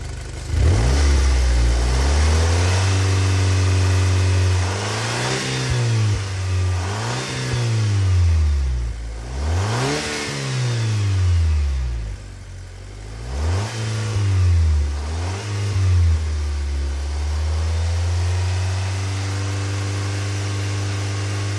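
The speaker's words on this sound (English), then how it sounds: "I'm gonna leave the phone recording here while I rev the car and see what happens." A 2008 Audi B6 A4 engine revs repeatedly at operating temperature, its pitch climbing and dropping in a series of surges before settling back toward idle, loud and near.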